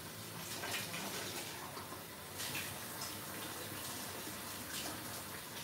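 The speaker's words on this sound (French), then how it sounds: "Je vais quand même rincer l'intérieur des poivrons." Running tap water rinses out the insides of bell peppers in a home kitchen during chili con carne prep, a steady close splashing gush throughout.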